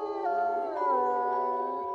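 A wolf pack howls together, several long, wavering voices overlapping and sliding in pitch, loud and sustained without any talking.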